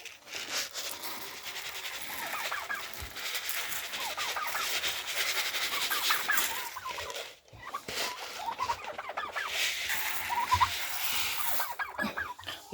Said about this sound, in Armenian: հնդկահավերն են